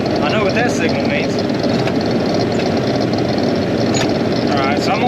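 A tractor engine runs steadily at close range, a continuous loud rumble throughout with faint rain-like hiss on a hot rainy day.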